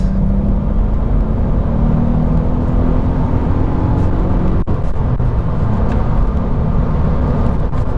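A Volkswagen Up GTI accelerating in third gear, its small engine giving a steady, rising drone from inside the cabin, with road rumble beneath and a brief dip midway.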